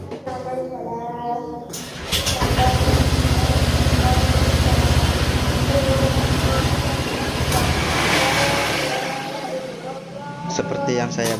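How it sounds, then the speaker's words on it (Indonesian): A motorcycle with a faulty odometer starts up after a short pause, then its engine runs at a steady idle with gentle throttle rises. It is close and fairly loud. "kita coba dulu tes menghidupkan motor ini, dan kita coba untuk gas pelan-pelan"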